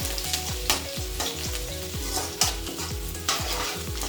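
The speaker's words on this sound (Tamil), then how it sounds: "போட்டு இதை நல்லா ஒரு 2 நிமிஷம் அப்படியே ஃப்ரை பண்ணணும்" Garlic and ginger fry in hot oil that has just been used for frying cauliflower, giving a steady close sizzle broken by rhythmic spoon-scrapes and stirring knocks against the pan, with no voices.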